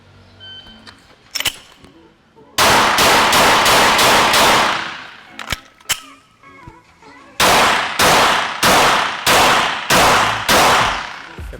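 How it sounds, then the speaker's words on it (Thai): A pistol fires during a PPC shooting drill on an outdoor range: two loud bursts of six rapid, evenly spaced shots, the first strong-handed and the second weak-handed after a reload, separated by a pause with faint handling noise. "เคลื่อนที่จากเจ็ดไปห้ายิงมือข้างถนัดหกนัด รีโหลดข้างไม่ถนัดอีกหกนัด"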